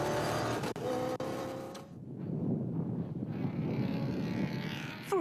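RFS BMW X3 rally car with a V8 petrol engine, racing in the Magaliesburg 400, roaring loudly and steadily with heavy wind buffeting, the engine note rising and falling as it passes close by.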